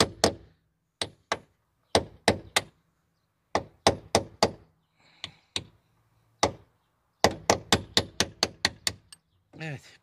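Metal pin being knocked out of the door check strap on a Renault 9 Broadway car door, a series of sharp, close hammer-like taps in irregular bursts, some quick runs of several strikes, with faint background rustle.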